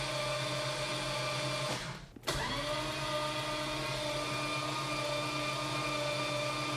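Starter cranking the 440 engine in a 1969 Plymouth Road Runner, a steady whirring grind that briefly stops partway, then resumes and carries on evenly, close and loud with no talking.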